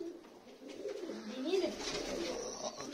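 Soft pigeon cooing, a low murmuring coo repeated through the clip, fairly close, with faint background noise.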